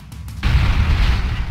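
Bombs going off in the side-scrolling game Broforce: a sudden heavy boom opens into a sustained, loud rumbling blast that fills the rest of the moment.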